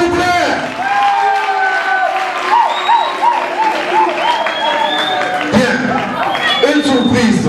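An audience at a stage show applauds to honor women, clapping and cheering under tonal music with wavering melodic lines, and voices are heard throughout.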